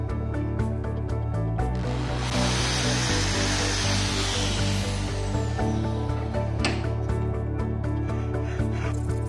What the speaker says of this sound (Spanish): primero haremos un agujero aquí y una ranura